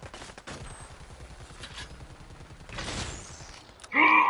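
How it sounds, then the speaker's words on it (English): Gunfire in the video game Predator: Hunting Grounds, a fast rattling burst of shots across the middle of the clip, with a louder blast and a sharp chime near the end. "Maybe I'm just shooting at them."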